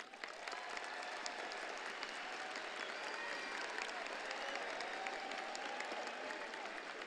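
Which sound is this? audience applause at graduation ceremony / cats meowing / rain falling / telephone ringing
audience applause at graduation ceremony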